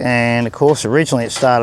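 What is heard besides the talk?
None of the usual background noises is heard.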